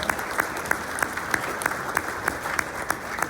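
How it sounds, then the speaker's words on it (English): An audience claps for police and fire honorees at a community morning event in Corona, with steady clapping marked by sharp, evenly spaced accents that fall roughly three times a second. "Let's give them another round of applause"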